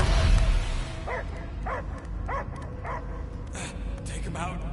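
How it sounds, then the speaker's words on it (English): A dog barks in the video game Marvel's Guardians of the Galaxy, giving a series of rhythmic, yelping barks at a steady pace with a low rumbling game backdrop, while characters talk over part of it. "I hear only barking"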